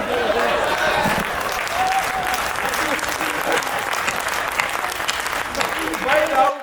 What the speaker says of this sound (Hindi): सतीश जी ताली बजा रहे हैं इस बात पे